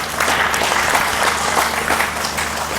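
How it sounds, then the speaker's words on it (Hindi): Audience applause honouring a Gurukul-educated graduate who teaches in Delhi, at a felicitation event for a bhajan preacher; dense, steady clapping from a crowd fills the whole stretch at close range. "इनके सम्मान में भी तालियां बनती हैं।"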